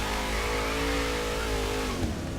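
A car engine in Forza Horizon 3 revs steadily and loudly while drifting, a sustained mid-pitched roar with its pitch gliding and dropping near the end as the slide finishes.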